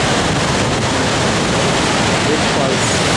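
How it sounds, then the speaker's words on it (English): Victoria Falls thunders in heavy rain, a dense, steady roar of falling water filling the whole clip, loud and close with no break. "Big falls."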